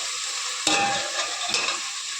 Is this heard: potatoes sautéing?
yes